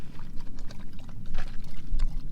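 Water poured into a dog's bowl at a windy campsite, a short, continuous splashing trickle lasting a couple of seconds, fairly close, with a low rumble of wind underneath.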